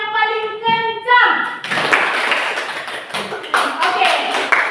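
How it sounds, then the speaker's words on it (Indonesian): A classroom group of students claps loudly and rhythmically in short bursts after a few drawn-out spoken or chanted syllables, the patter continuing with a few louder accents. "Tepuk yang paling kencang."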